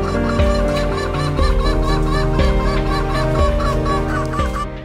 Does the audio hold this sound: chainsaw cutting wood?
no